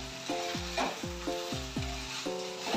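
Rajasthani-style poha is stirred in a pan, each stroke raising a squealing, gliding scrape over a soft sizzle, repeated in a regular rhythm at close range.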